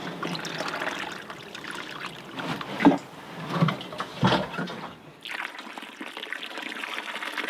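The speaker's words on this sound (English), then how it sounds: "Why are you washing your feet here and not at the well?" Water splashes and pours in uneven bursts as someone washes their feet outdoors among the Bedouin of Petra, several louder sloshes standing out over a soft, steady trickle, close and fairly quiet.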